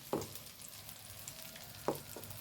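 Masala-coated okra fries in hot oil with a faint, continuous crackling sizzle, and a couple of soft stirring scrapes rise above it.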